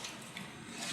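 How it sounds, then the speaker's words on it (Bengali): Grated coconut squeezed by hand to press out coconut milk gives a soft, close, continuous wet squishing and rubbing, faint and brief with no voices. "নারকেলটাকে ছেনে ছেনে আমি দুধটাকে বার করে নিচ্ছি।"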